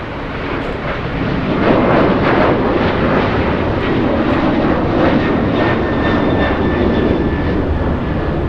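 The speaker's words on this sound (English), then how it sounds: "Racing down the runway, we have United Airlines 2667 flying to Dallas today." A United Airlines jet airliner bound for Dallas takes off down the runway at LAX, a loud, steady, broadband engine roar that swells early and holds strong throughout.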